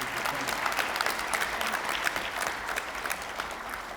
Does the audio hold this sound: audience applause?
yes